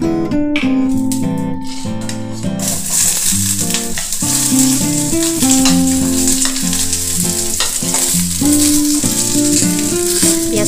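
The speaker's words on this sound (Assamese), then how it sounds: "এই তেলতে এতিয়া মই পিয়াজখিনি ভাজিম" Onions fry in hot oil in a home kitchen while preparing chilli paneer, a bright, continuous sizzle with occasional rattling that runs under loud melodic background music.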